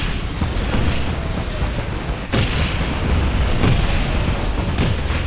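Mortar fire in the video game Wolfenstein (2009): a dense, continuous rumble of booming explosions, with sharper blasts cutting through at intervals, loud and sustained with no talk.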